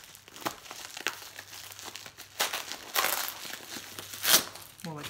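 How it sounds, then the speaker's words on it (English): Scotch tape being peeled off with crinkly, tearing bursts, a sharp rip near the end, amid soft handling noises and some speech in the background. "I got that little piece of tape off pretty easy"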